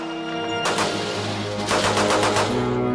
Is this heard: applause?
no